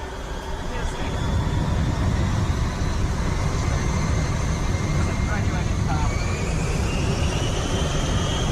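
An airliner rolls for takeoff in an audio drama, a loud continuous engine roar with rising whining tones that holds steady throughout at close range.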